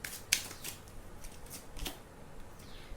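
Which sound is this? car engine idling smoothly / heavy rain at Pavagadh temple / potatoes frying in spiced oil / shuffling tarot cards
shuffling tarot cards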